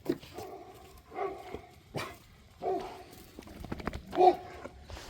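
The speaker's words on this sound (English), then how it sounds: "Oh, the dogs just realized I'm out here." Several dogs, one named Dodger, bark in short separated bursts from a backyard garden after a storm, moderately distant and fairly quiet, with a whimper-like yelp near the end.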